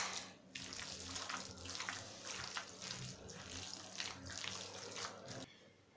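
Tap water runs steadily while a cutting board and hands are wet before shaping mushroom-filled meat cutlets in a home kitchen, a continuous close splashing flow that stops abruptly near the end.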